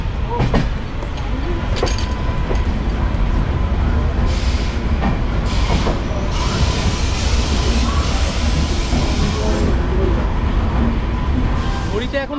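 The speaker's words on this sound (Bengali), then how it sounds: "ট্রেন আর মাত্র কয়েক মিনিটের মধ্যেই কিন্তু এনজেপি পৌঁছে দেবে।" A passenger train rolls toward New Jalpaiguri station in North Bengal in the early morning, giving a loud, continuous rumble of wheels and carriage noise with a few sharper clatters and faint muffled voices.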